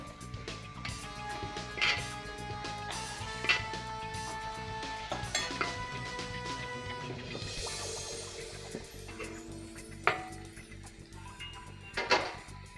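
Kulith (horse gram) flour shengole being stirred into a spiced gravy in a pan: occasional soft spoon clinks and scrapes against the metal, faint and spaced out under steady background music.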